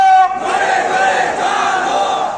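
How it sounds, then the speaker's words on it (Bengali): Crowd chanting the Nara-e-Takbir slogan, many voices shouting together in a loud, sustained roar after a brief lead call. "এটা স্লোগান হবে, স্লোগান চলবে নারে তাকবীর"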